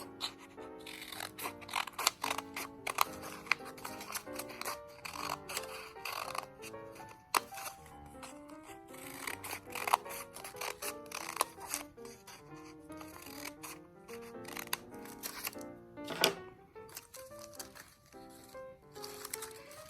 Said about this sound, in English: Now we're going to go ahead and cut on those lines.